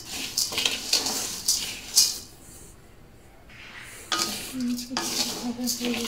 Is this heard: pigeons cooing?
no